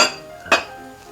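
A single sharp metallic clink as a lid is set down on a simmering pot of pakoda mor kuzhambu, rising briefly out of a quiet background.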